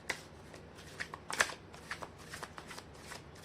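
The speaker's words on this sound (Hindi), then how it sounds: "मैं कर लेती हूँ कार्ड की शफलिंग।" Tarot cards being shuffled by hand, with a run of quick riffling snaps and crisp flicks, one louder burst near the middle, close and fairly faint against a quiet room.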